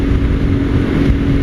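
A 2000 Suzuki TLR motorcycle fitted with a Yoshimura full titanium race exhaust idles with a steady, loud, deep engine rumble that holds even throughout with no voices.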